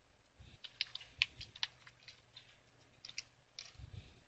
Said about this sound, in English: now type this command, hit enter